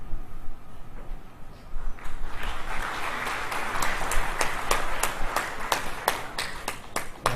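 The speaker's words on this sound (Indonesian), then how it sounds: "Terima kasih untuk tepuk tangannya." Applause from a church congregation at a pastor's ordination service, starting faint and swelling after about two seconds into dense, steady clapping with sharp individual claps standing out near the microphone.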